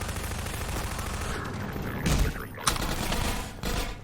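Sustained bursts of gunfire from Half-Life 2: Episode One, loud and dense throughout with a sharp crack near the middle and rapid automatic shots.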